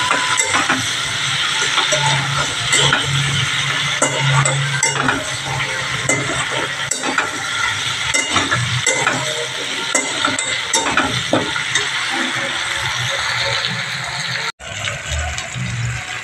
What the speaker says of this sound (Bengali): আলুটা আমি আর একটু ভালো করে ভেজে নেব